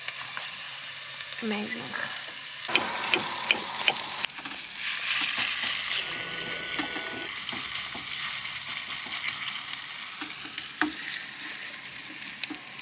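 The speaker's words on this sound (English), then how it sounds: "in a second we will add fried onion to make this" Onion frying in a pan at a campsite kitchen in a small camper van, a steady crackling sizzle with scraping stirs and clinks, a voice briefly speaking over it.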